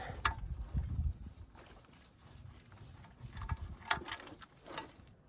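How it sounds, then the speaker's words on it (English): Ratchet working the bolts loose on the lower front ball joint of a Volvo XC90 D5, with quiet mechanical clicks and clunks in short bursts. "I want to take these bolts out completely."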